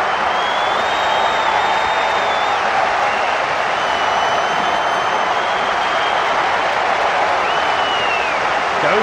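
A stadium crowd at a rugby World Cup match between Italy and Papua New Guinea cheers and applauds a try, a loud, continuous roar of clapping and cheering that holds steady without a break.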